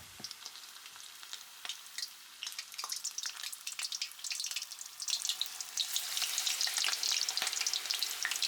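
Shrimp tempura deep-frying in oil heated above 170 degrees, a dense, steady crackle and sizzle of bubbling batter that builds louder toward the end, close and alone with no talking.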